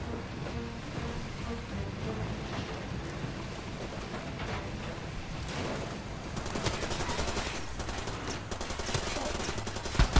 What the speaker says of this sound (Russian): Взять пулемет.